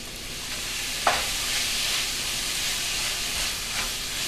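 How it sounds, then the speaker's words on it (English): Seitan sizzles steadily in a hot pan, close up, with a couple of brief scrapes as it is stir-fried. "stir frying the seitan a little bit"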